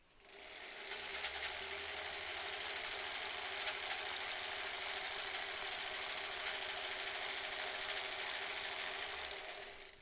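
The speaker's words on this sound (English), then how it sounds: "I'm going a little bit further down here, so I can sew as long as I can without stopping" Sewing machine stitching face masks in a continuous run, a steady fast mechanical whir with rhythmic needle ticking that holds evenly for nearly ten seconds, starting and stopping near the ends, close and alone.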